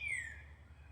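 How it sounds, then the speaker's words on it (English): A single bird chirps outdoors near a spring porch, one bright, brief call near the start, fairly faint over a low steady background hum. "I love that bird talking."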